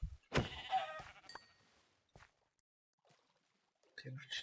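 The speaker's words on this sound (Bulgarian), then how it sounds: "Овце." Sheep bleat in a Minecraft survival world on a mountain, a few short bleats in the first second or so, then quieter scattered game sounds.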